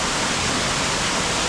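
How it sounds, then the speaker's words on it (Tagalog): Mount Nirmod Falls roars as a dense, steady wall of rushing water, loud and continuous with no breaks or voices. "Narating din namin waterfalls"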